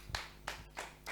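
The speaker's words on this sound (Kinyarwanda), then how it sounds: "tumukomera amashyi" At a church prayer service, a crowd claps to welcome a preacher, four faint, evenly spaced clap bursts in a slow steady rhythm over a low hum.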